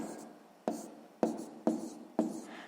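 Pen or pencil strokes writing numbers by hand on paper during a sixth-grade maths exercise, heard as four distinct scratchy bursts, each a sharp start fading out, close and fairly quiet with no talking.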